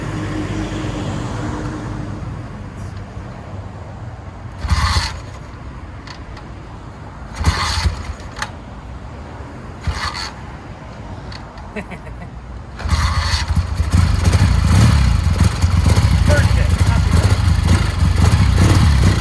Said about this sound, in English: so I'm gonna give it a kick and then take it for a little spin